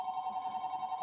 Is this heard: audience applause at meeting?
no